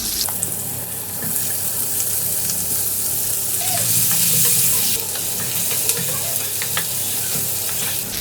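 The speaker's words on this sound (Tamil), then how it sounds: "அதிலே வந்து இப்போ இதெல்லாம் சேர்த்து நம்ம வறுத்துக்கலாம்" Onions, tomatoes and spices frying in an oiled pan for paneer butter masala, with a steady close sizzle, occasional stirring scrapes and clinks throughout, no talking.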